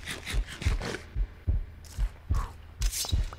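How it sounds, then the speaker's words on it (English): Low-health heartbeat effect in modded Minecraft 1.12, a steady thudding lub-dub pulse repeating about every half second, soft and close, with a few brighter game noises over it. "That is kind of cool that you can hear heart beating."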